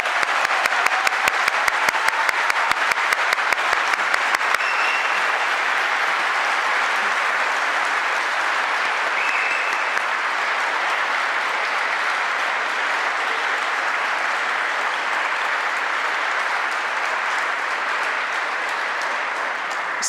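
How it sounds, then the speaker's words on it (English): A crowd at a literary event applauds a guest author, starting with a few distinct, rhythmic claps and settling into a dense, loud, sustained wash of clapping that carries on for about twenty seconds. "Now, one last round of applause for our guests"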